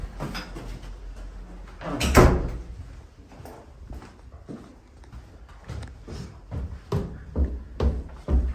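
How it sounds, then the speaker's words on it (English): Indoor door and cupboard-like knocks and shuffles, with one louder thud and a scatter of lighter bumps and clatters at irregular intervals, fairly close, with no talking. "Come on in, shut the door."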